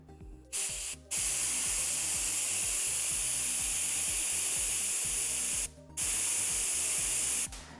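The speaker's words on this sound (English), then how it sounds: "So we're going to grab our air compressor." An air compressor blasts air into a bicycle tire in a loud, steady hiss that runs in two long bursts, with short breaks between them.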